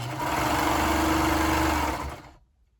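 A sewing machine stitches a sleeve and side seam in one steady, loud, close run of about two seconds, a dense mechanical whir that then winds down quickly to silence.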